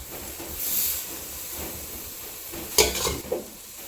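Wai Wai instant noodles are stir-fried dry in a pan, giving a soft steady sizzle and hiss with scraping stirs and a few sharp clanks of the utensil against the pan near the end.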